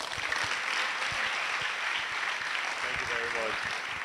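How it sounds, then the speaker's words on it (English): Standing ovation at a quiz competition finale, a dense continuous crowd clapping with murmuring voices mixed in underneath. "Thank you very much for that standing ovation."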